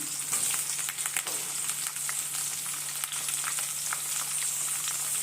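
Tomatoes fry in a pan for a horse gram curry, making a steady bright sizzle with small crackles and an occasional stir. The sound is close and continuous, with no talking.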